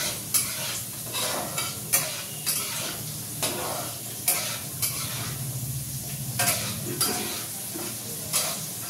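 Cashew nuts and raisins fry over low heat, stirred with a spatula, a soft continuous sizzle punctuated by frequent sharp scraping and tapping strokes against the pan, with no voices.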